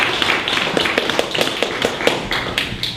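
Audience applause welcoming a marketing speaker at a meetup: a steady wash of many hands clapping at moderate distance, with sharper individual claps popping out of the dense patter throughout.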